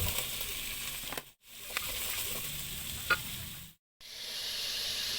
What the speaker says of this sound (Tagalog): Ilagay na natin ang ating sayote at carrots.